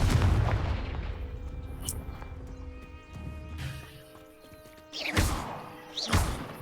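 Confringo blasting spell explosions in the Hogwarts Legacy video game: a heavy blast at the start, then sharp bursts near the end over ringing game effects and music, fairly loud.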